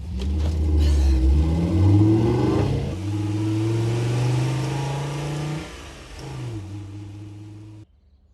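An armored vehicle's engine revs in a movie scene, a loud, deep rumbling drone that climbs and shifts pitch in several sustained pulls before cutting off near the end.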